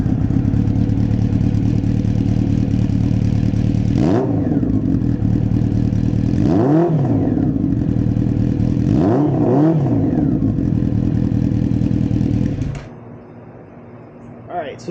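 Honda Nighthawk motorcycle with a Delkevic 4-into-1 exhaust, baffle still fitted, idling with a loud burbling drone broken by several throttle blips, then dropping to a quieter idle near the end.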